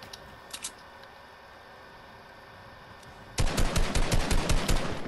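Rapid automatic gunfire in the Fortnite video game bursts in loudly after a few seconds of quiet ambient hum, firing a steady stream of close shots.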